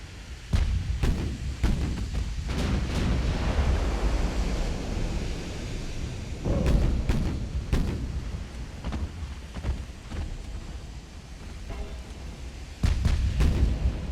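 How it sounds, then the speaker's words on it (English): Warship ammunition detonating in the naval strategy game Ultimate Admiral: Dreadnoughts, a series of deep, rumbling blasts with sharp cracks that swell and fade over a constant roar like wind and surf. "Ammo detonation."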